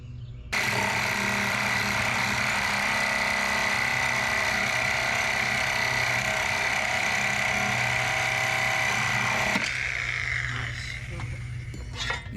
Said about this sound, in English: Using a crowbar to hold the tire up off the wheel allowed us to cut all the way through it